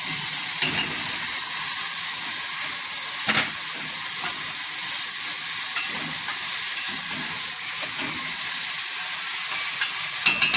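Fresh tomatoes sizzle and fry in a pot with beans and vegetables, a steady close hiss broken by a few soft stirring scrapes, with no voices.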